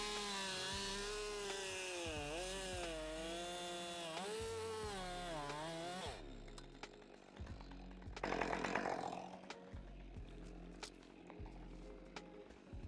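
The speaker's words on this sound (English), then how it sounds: "I'll just push the saw straight through, saddle it, throw the piece off." A chainsaw cuts through a vertical tree spar, the engine loud and close with rising and falling revs while it bites into the wood, then dropping to a rough idle with scattered knocks.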